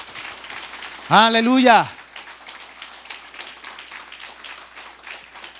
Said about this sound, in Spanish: Dele ese aplauso al Señor en esta hermosa mañana